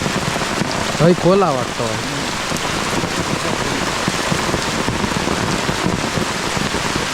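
Steady rain pours down during a stream fishing outing, a dense hiss running the whole time, with someone speaking briefly near the start over it.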